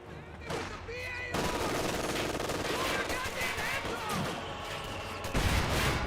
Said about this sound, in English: I believe it is a mortar barrage.